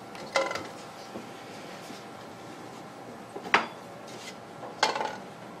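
A margin trowel taps and scrapes against a bucket while mixing feathercrete, giving three distinct metallic clinks spaced a second or more apart over a faint, quiet background of scraping.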